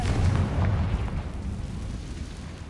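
A Confringo spell explosion from the Hogwarts Legacy video game bursts with a deep rumbling boom at the start, then rolls away into a fading crackling roar.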